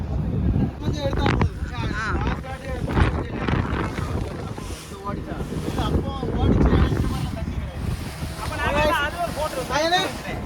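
Crowded passenger ferry underway at sea off Kanyakumari, with a steady engine and water rumble, wind buffeting the microphone, and a crowd of people chattering and shouting loudly throughout.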